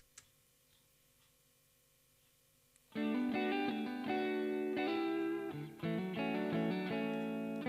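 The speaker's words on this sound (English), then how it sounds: "add the spring reverb back in and drop it down because there's too much" After near silence, an electric guitar bursts in with chords, ringing with a springy reverb tail that lingers between strums.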